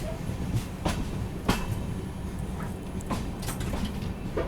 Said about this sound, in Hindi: बाकी देखो ट्रेन अपनी अभी पहुँचने वाली है करमाली रेलवे स्टेशन।